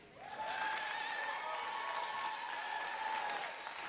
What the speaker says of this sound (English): ask that we try to keep the applause down if we could